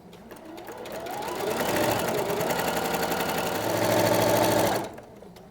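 A sewing machine stitches quilt patchwork seams in one continuous run of rapid, close mechanical chatter that swells steadily, holds for several seconds, then stops abruptly.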